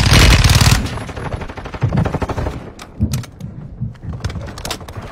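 Rapid bursts of automatic gunfire from a video game, loud and dense at the start, then scattered shots and short volleys continuing under bursts of game noise.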